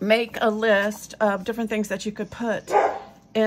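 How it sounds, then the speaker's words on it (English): Pet dogs bark and yip in a home craft room, short sharp barks breaking in among a woman's close, steady talking. "Excuse my dogs. I apologize for the dog,"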